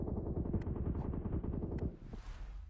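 Rapid automatic gunfire in the PUBG Mobile battle royale game, a dense rattling burst lasting about two seconds, then fading to faint background noise.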